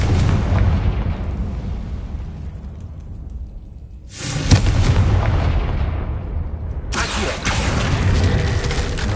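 Fiery Confringo spell blasts from Hogwarts Legacy on PS5: a loud booming explosion at the start, fading into a rumbling decay, then two more sharp bursts that roll on with heavy rumble. No speech.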